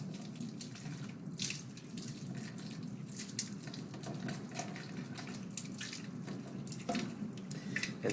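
Water runs from a tap into a container during an egg lab, a steady close splashing gush with small drips and clinks, continuous throughout.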